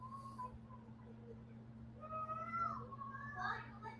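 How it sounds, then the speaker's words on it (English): Cats meow faintly in the background of a home streaming setup, a few thin drawn-out cries over a steady electrical hum. "sorry for the kitties in the background"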